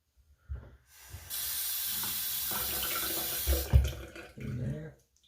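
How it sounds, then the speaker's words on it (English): Water runs from a bathroom tap into a sink for shaving lather, a steady hissing stream of about three seconds, with faint handling clunks before it and after it. "so I'm gonna go ahead and get some water"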